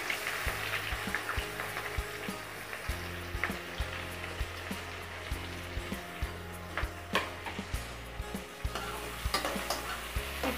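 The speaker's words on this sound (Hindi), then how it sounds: "बस प्याज का कच्चापन निकल जाए इतना इसे हम पका लेंगे।" Chopped onion with green chillies fries in a pan for rajma, giving a continuous soft sizzle broken by frequent scraping and clinking stirs from a spoon, close and fairly quiet.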